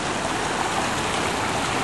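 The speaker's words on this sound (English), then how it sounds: "we just saw all this water coming down this side street" Floodwater rushing down a side street in Tanque Verde, a steady broadband roar of running water, loud and continuous with no talk.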